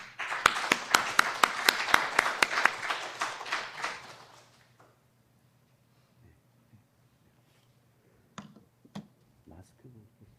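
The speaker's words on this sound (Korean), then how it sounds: "오상규 목사님 나오실 때 우리 박수로 환영하겠습니다" A church congregation claps to welcome a pastor to the pulpit at a revival service, sharp distinct claps for about four seconds that fade away, followed by near silence with a few faint knocks and rustles.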